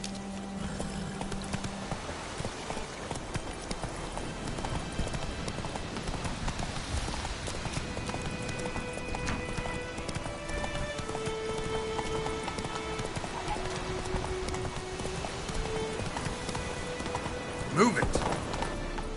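A horse in a PS4 video game gallops with a steady, rapid clip-clop of hooves, accompanied by a rain-like hiss and soft tonal game sounds throughout.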